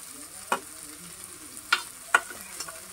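Bitter gourd frying in oil with small shallots and onions tossed in, a quiet steady sizzle broken by three or four sharp stirring scrapes of a spoon against the pan.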